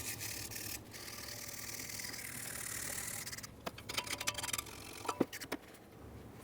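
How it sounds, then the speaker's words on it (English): A wire brush scrubs a Ford Fusion steering knuckle, first a steady rasping hiss, then a run of quick scratchy strokes and ticks, close and without talk. "It's important to make sure you clean up the base area where the bushing will press directly against, and also clean the inner ports. Use a wire brush."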